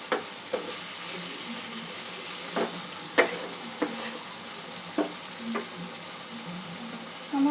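Spices and green chillies fry in a pan for a ridge gourd curry with masoor dal, a steady low sizzle broken by a series of sharp spatula scrapes and taps at irregular intervals, with no talking.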